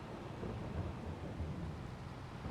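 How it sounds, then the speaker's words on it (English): Rain falling with low rolling thunder in the Farming Simulator video game, a faint, steady hiss over a soft rumble throughout with no talking. "great, it started raining"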